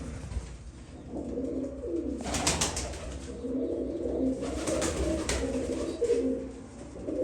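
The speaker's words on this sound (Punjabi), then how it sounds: "ਸਾਰੇ ਵੱਡੇ ਕਬੂਤਰ ਆਪਣੇ ਇਹ" Pigeons coo softly and continuously in a low rumbling chorus, with a couple of brief bursts of noise like fluttering wings.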